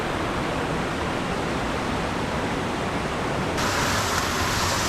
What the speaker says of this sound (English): I found a waterfall just like you wanted me to.